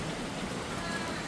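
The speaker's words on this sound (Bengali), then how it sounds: "কি জোরে বৃষ্টি নেমেছে দেখো।" Heavy rain falls in a dense, steady roar of drops on surfaces, loud and unbroken throughout.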